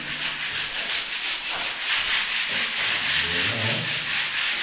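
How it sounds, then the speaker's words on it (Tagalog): Sandpaper rubbing on a surface during bungalow house construction, a loud, continuous abrasive scratching with a regular back-and-forth rhythm, close up and with no voices over it. "Liha naman na."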